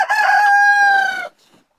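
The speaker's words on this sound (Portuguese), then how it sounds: "Esse galo aqui do senhor é engraçado, que ele canta toinha, né?" A farm rooster gives a single loud, close, drawn-out crow that cuts off sharply, followed by near silence.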